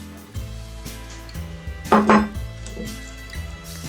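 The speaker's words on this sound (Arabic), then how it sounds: "كما كتشوفوا اذا نضيف 3 ديال البيضات" Three eggs dropped into Betty Crocker chocolate cake mix in a bowl, giving two quick clinks and plops close by, set over steady background music.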